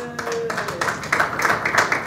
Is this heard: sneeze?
no